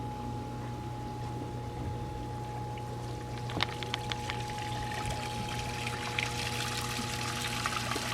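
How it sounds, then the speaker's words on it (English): A backyard waterfall water feature at a Reno, Nevada home runs as a steady pour and trickle under a constant low hum, with faint splashes rising toward the end and no talking. "And when the waterfall's on, it's really nice."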